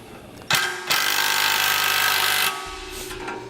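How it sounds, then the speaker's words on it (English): A 1/2 by 5 inch bolt through a base plate and bumper core on a 2015 Smart fortwo is tightened with a 3/4 inch socket, a loud continuous rattling power-tool buzz in close bursts. "I'm going to tighten down the 5 inch bolt, or 1/2 inch by 5 inch bolt"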